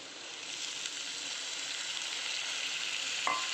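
Kurdai fry in a pan with a steady, even hiss of sizzling oil, fairly soft and close, with a single light utensil clink near the end.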